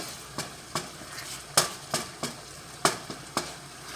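Greasy meat sizzling in a pan, with a spoon or spatula scraping and knocking at the pan in irregular strokes roughly every half second over a faint steady fry, close and fairly quiet with no talk.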